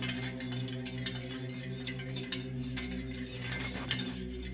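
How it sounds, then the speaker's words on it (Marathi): A spoon stirring panchamrit sweetened with honey gives steady, close, soft clinks and scrapes against the vessel over a low background hum. "आणि त्याला चांगलं मिक्स करून घेऊया"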